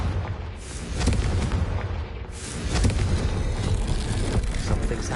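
A Confringo fire spell in Hogwarts Legacy goes off with deep, rumbling booms, two swelling blasts that roll out into a sustained low roar and crackle, loud and close, with no voices.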